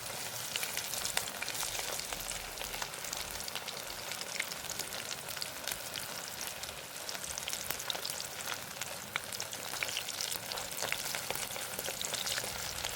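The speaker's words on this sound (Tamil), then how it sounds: "ரெண்டாவது தரம் போட்டதும் பொரிஞ்சு வந்துட்டுது." Thin-sliced ivy gourd (kovakkai) sizzles and crackles in hot oil during a second batch of frying for poriyal, a dense continuous hiss with scattered pops, moderately quiet and with no speech.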